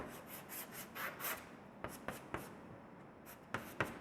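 Chalk or marker writing on a board during a chemistry lesson, a run of scratchy strokes and rubbing, then several sharp taps as letters are finished, close and clear with no talking.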